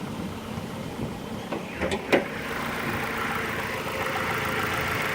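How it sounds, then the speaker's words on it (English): The 2.3 liter four-cylinder engine of a 2005 Ford Escape XLS hums at a steady low idle throughout, with a couple of brief clicks and a short whoosh early on. "Listen to that engine. How healthy is that?"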